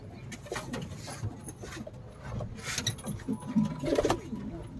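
Soft pigeon coos rise and fall over a murky, rustling background, with a few louder coos near the end and faint indistinct voices.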